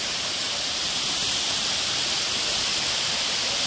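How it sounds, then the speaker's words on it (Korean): Huibang Waterfall on a mountain trail in Korea pours with a constant, even roar, a steady hiss-like rush heard from nearby with no voices over it. "희방폭포에 도착"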